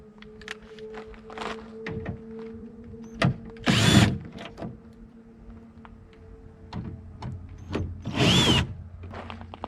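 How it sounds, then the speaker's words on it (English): A cordless screwdriver with a 5/16 inch bit removing the taillight bolts on a Ford F-150, two short whirring bursts of the driver amid small clicks and handling noises, fairly quiet. "You're also going to need a cordless screwdriver with a 5/16 inch bit on the end."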